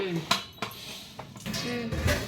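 A metal cooking pot is handled, giving a few sharp clanks and clinks of cookware and utensils knocking together at close range, spaced irregularly with faint voices in the background.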